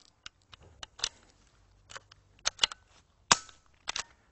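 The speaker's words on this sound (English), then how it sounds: "I'm then going to fire the gun" Several sharp pops of an air gun firing at irregular intervals, some doubled, with quiet clicks and mechanical handling between shots.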